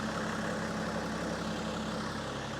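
Bernard Kerr's turbocharged M57 US Mail Van custom race van driven slowly around a yard, its engine a steady, close, low droning rumble with no speech.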